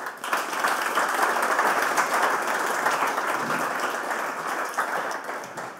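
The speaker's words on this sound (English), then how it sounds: "I want to give a big round of applause to Heather Kelley" An audience at a game design talk applauds steadily, a dense wash of many hands clapping that holds fairly loud for about six seconds and eases slightly toward the end.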